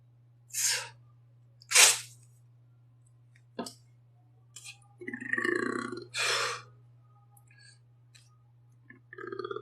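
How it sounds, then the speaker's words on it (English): Several loud, close burps come one after another between quiet pauses, with breathy gulps and small mouth noises in a calm indoor setting during a guided body session. "I know it's kind of weird if I burp a lot, but it's actually a really good thing."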